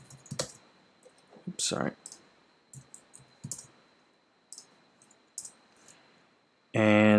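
Sparse clicks of typing on a computer keyboard, scattered light taps with pauses between them, while a person speaks briefly; a loud burst of noise cuts in at the very end.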